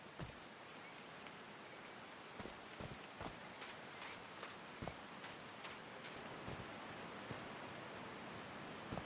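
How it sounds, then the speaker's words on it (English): Steady rain falls in the adventure game Call of the Sea, a soft continuous hiss with scattered sharper drop impacts tapping at irregular intervals, fairly quiet and with no voices. "These drops of rain are so refreshing."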